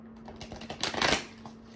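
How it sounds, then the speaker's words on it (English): A thick Witch's Tarot deck shuffled by hand, giving a short, close riffle of papery card flutter that swells to a brief burst and then fades. "I don't like shuffling this deck because shit thick"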